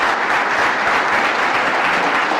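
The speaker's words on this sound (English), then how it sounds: "Let's give them another round of applause." An audience at a Governor Hochul economic development event in Rochester applauds, a dense, loud, sustained burst of clapping from a large crowd that carries evenly from start to finish.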